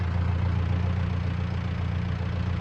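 A tractor and a loader idling nearby, a steady low diesel rumble with an even mechanical throb that holds constant throughout, alone and unbroken.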